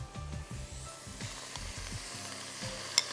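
Chicken frying in cooking oil with ginger garlic paste, yogurt, whole garam masala, bay leaves and a stock cube: a soft sizzle under quick, repeated scraping stir strokes, ending in a small clink.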